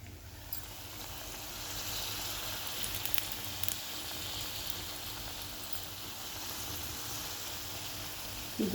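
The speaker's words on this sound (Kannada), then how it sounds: "ಹಿಂಗೆ ಡಿಪ್ ಮಾಡಬೇಕು, ಬಿಡಬೇಕು. ಎಣ್ಣೆ ಚೆನ್ನಾಗಿ ಕಾದಿರಬೇಕು." Sugundalu sweets fry in hot oil with a steady, close hiss and crackle that runs evenly throughout, a few sharper pops breaking through near the end.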